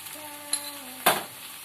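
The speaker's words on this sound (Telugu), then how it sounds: "ఇప్పుడు 2 టేబుల్ స్పూన్లు కారం వేస్తున్నాను" Taro pieces fry in a pan with chilli powder under a steady soft sizzle, while a spoon scrapes and stirs them in two sharp, close strokes.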